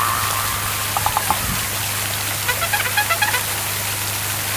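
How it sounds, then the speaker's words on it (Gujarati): Rain falling outdoors as a steady broadband hiss with a low continuous hum underneath, scattered drips and patters standing out briefly, no talk. "બહાર જો ને વરસાદ ચાલુ થઈ ગયો"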